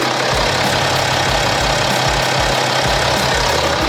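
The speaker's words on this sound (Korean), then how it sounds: "영상으로 엔진 소음 한번 담아보도록 하겠습니다." Steady, loud diesel idle from a BMW X5 30d with its 3.0-litre engine, recorded up close with the bonnet open; a constant even rumble with a faint rhythmic knock and no voices.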